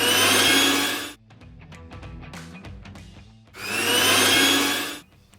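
An electric blender whirs loudly, emulsifying egg yolks, mustard and oil into mayonnaise, in two strong bursts separated by a few seconds of quieter clinking and handling.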